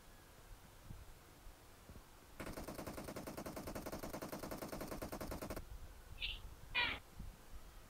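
Burst of M762 assault rifle fire in a battle royale shooter game, a dense rapid rattle lasting about three seconds at moderate distance, followed by a couple of brief sharp chirps.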